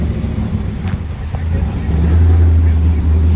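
A Toyota-engined gasser car idles at a cruise-in car show in Ocean City, a loud, steady low rumble that swells toward the end, with faint talk and outdoor noise around it.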